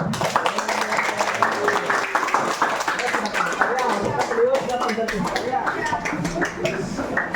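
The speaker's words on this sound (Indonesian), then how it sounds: "tepuk tangan dulu" A group claps together during a first aid training session on helping disaster victims, the claps steady and moderately loud for several seconds under continuing talk and room chatter.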